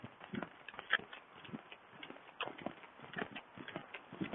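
A horse lopes in a steady three-beat rhythm, its hoofbeats thudding moderately close over a dull background, with faint bits of a rider's voice.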